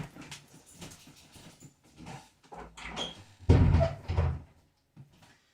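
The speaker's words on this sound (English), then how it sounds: "let me close this door." A door is pushed shut with a solid thump and latch rattle, near and moderately loud, with a dog whimpering softly in the background and brief knocks before it.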